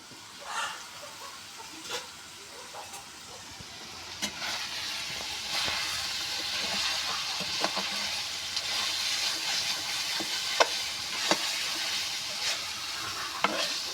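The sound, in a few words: mutton being fried with pumpkin in a pan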